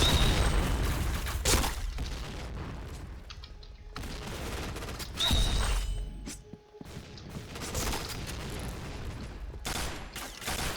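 Rapid gunfire from a Famas G2 rifle in the shooter game Point Blank, with several loud bursts of shots separated by brief quieter gaps, close and punchy.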